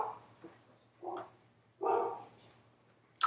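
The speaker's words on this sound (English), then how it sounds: "And now my dogs are barking." Several dogs bark in short separate bursts indoors, three or four barks spread over a few seconds, moderately close, with quiet pauses between them and no talk.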